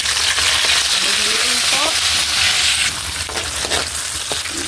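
Tomato sautéing in hot oil in a pan, a steady loud sizzle with occasional scrapes and clinks as it is stirred, and a voice speaking briefly over it.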